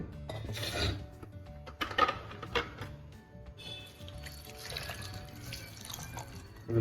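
Water splashes and trickles onto spinach in a kitchen pot for blanching, with uneven rushing bursts, a few clinks and a steady pouring hiss up close, and no voices.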